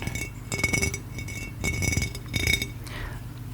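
Light plastic crinkling and small clinks from a candy packet in short bursts, close up and fairly quiet, with no one talking.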